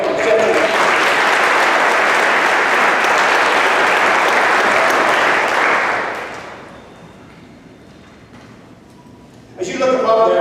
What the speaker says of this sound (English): So a round of applause for Jeff.